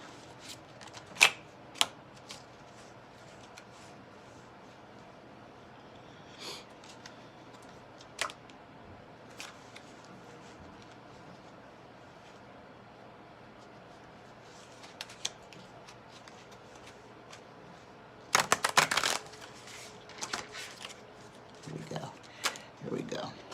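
Tarot cards shuffled by hand in a quiet room, heard as sparse soft clicks and taps, then a short louder burst of riffling card noise near the end.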